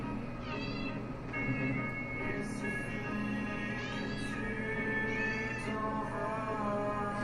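A cat meows several times indoors in a living room, short rising calls spaced across the stretch over a steady background hum.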